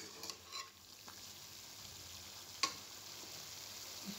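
Chicken sizzling in a kadai, a faint steady fry hiss with a few scattered clicks and one sharp utensil knock partway through.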